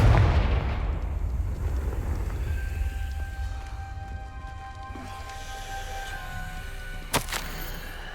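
A Confringo fire spell blast in Hogwarts Legacy bursts loudly at the start and decays into a rumbling tail with tonal shimmer, then a sharp crack strikes near the end.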